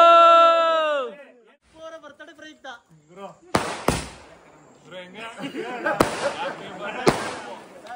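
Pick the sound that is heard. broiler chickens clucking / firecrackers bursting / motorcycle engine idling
firecrackers bursting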